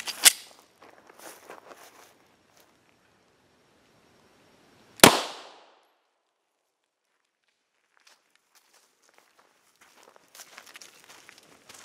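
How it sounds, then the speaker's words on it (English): Handgun fires a 124 grain ball round from a 5-inch barrel at a Kevlar helmet about 15 feet away, one sharp loud crack midway, with lighter shuffling and handling noises before and after. "We're going to throw some handgun rounds up against him."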